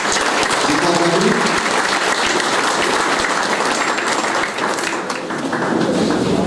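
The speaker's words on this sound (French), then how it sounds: "Un grand applaudissement encore pour nos candidats." A crowd at a Mauritian political party regional meeting applauds its election candidates with loud, sustained clapping from many hands, holding steady with only a brief dip near the end.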